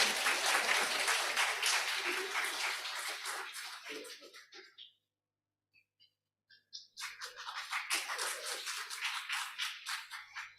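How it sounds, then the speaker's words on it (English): An audience at a youth conference plenary session claps for its speakers in two dense bursts separated by a brief near-silent pause, fairly close and steady. "A big round of applause for them."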